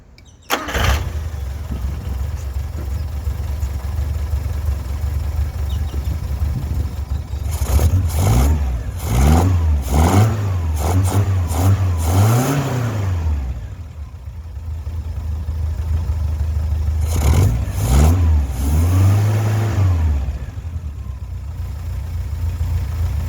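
A Toyota KE70 Corolla's engine, running after a motor swap, cranks and catches, idles roughly, then revs up in several rising and falling bursts, loud and close, with a steady idle between the blips.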